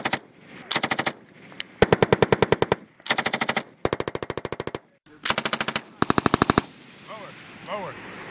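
Soldiers firing a machine gun while zeroing MILES laser-engagement gear, with repeated rapid bursts of loud, sharp shots separated by short pauses, followed by fainter distant sounds at the end.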